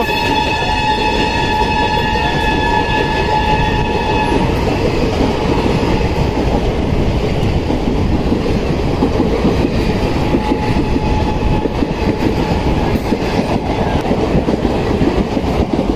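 Jammu Mail express train departing Jalandhar Cantt, heard loud and close from inside a first-class coach: a horn blast in the first seconds, then continuous rumbling and rattling of the carriages with rhythmic clatter of the wheels.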